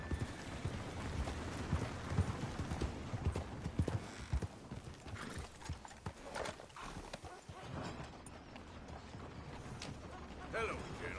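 Horse hooves clip-clopping in Red Dead Redemption 2, a steady rhythmic patter of hoofbeats at close range, joined by a whinny, light rain and brief talk in the background.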